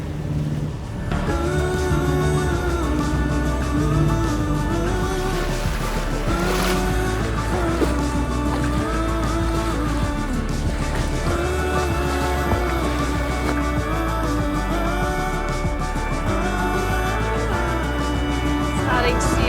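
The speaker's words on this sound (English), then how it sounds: "we are obviously motor sailing or motoring through" A sailboat motoring under engine power near Puerto Rico gives a steady, loud engine drone that runs without a break, with a constant low rumble and some wind and water wash over it.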